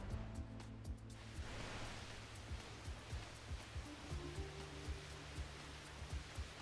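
Water cannons in GTA 5 blast a car and hold it aloft, a steady broadband rushing spray with repeated low thuds and a droning hum underneath, continuous and fairly loud throughout.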